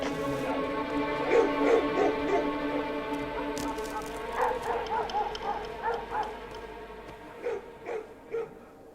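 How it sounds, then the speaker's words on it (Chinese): A dog in an imperial palace yips and barks repeatedly in short, irregular bursts with whimpering tones, fairly close and over a low steady background. "没日没夜的狗叫"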